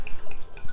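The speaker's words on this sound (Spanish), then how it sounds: "y vamos a añadir 1 litro de agua" Water is poured into a Thermomix bowl holding shrimp shells and heads to make a fish fumet, a short burst of close, uneven splashing and dripping.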